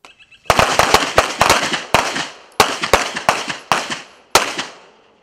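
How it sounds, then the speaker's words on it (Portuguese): Glock 9mm pistols fire at a shooting range during municipal guard training, with about a dozen sharp, loud reports in quick irregular bursts, each with a short ringing decay and small pauses between groups. "vieram ao estande de tiro e praticaram com o novo armamento"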